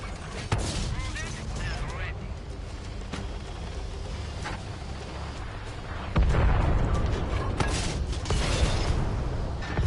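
A tank gun firing and its shell striking the ground in World of Tanks, sharp booms over steady engine rumble that grows louder partway through, with someone talking over the action.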